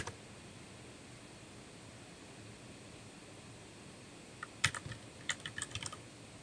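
Quiet computer keyboard typing, a short burst of key clicks followed by a few more scattered taps, close but faint over a steady hiss of room noise.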